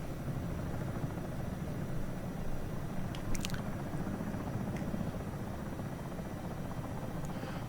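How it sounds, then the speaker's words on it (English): Helicopter flying in the Comanche video game, a steady, close rotor and engine rumble that holds at an even loudness throughout, with a few brief faint clicks midway. "Let's go back to the helicopter."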